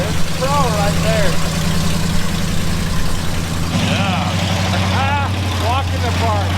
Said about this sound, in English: Is it time for a green Suzuki crawler?